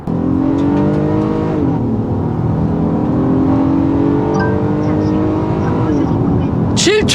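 Engine of a 2021 Honda Odyssey minivan with a 3.5-litre gasoline engine, heard from inside while accelerating: a steady droning whir with harmonics that rise and shift through gear changes, continuous and fairly loud, with a voice briefly audible.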